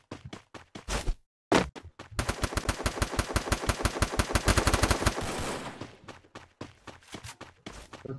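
Gunfire crackles in a ranked battle royale video game match: a few sharp single shots, then a long rapid automatic burst, followed by scattered lighter pops.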